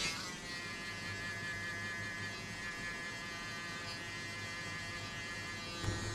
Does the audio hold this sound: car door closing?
no